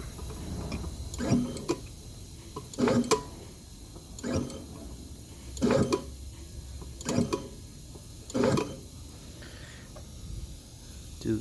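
An AMP GTM crimper runs a dry cycle with nothing loaded, giving a series of about seven evenly spaced mechanical clunks and whirs roughly every 1.4 seconds over a steady background hum.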